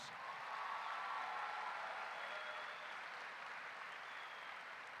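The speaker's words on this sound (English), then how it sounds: "Let us give our seniors a round of applause for all of their volunteer work, please." Audience applause for graduating seniors at a Stony Point graduation, a fairly faint, even wash of clapping from a distant crowd lasting the whole stretch.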